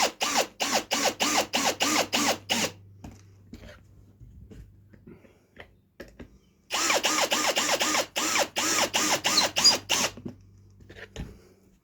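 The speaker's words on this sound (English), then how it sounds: "I'm going to put the pocket hole screws in." A power driver sinks 1¼-inch pocket hole screws into clamped wood: two close bursts of rapid, pulsing whirring, separated by a quiet stretch with faint handling clicks.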